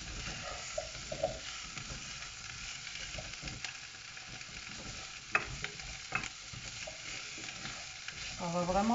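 Meat and butternut squash cook in a pan with a steady, close sizzle, broken by occasional scraping and stirring knocks, and a louder clatter rises near the end.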